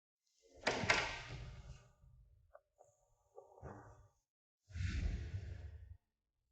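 An office door pushed shut, with a broad whoosh and thud near the start, a few small knocks, then a second heavy thump of it settling closed, all close by with no talk.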